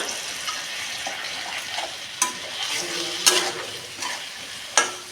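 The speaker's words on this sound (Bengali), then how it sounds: "এখানে একটুখানি সামান্য জল দিলাম মশলাটাকে ভাজার জন্য।" Chilli powder and turmeric spice paste fries with a little water in a pan alongside vegetables, a close, steady sizzle punctuated by several sharp utensil scrapes and taps, with no voices.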